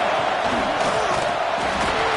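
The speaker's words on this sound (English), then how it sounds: "This crowd trying to make life miserable for this offense." Roaring crowd in a football stadium at a Penn State vs UCLA game, with a dense, sustained wash of noise at steady loudness throughout.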